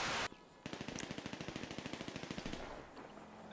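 Rapid automatic gunfire in GTA Online Drop Zone adversary mode, a steady burst of evenly spaced shots lasting about two seconds after a brief loud blast, then fading into ambient game noise.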